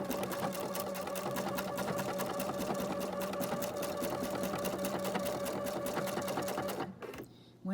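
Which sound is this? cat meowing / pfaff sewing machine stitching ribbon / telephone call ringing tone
pfaff sewing machine stitching ribbon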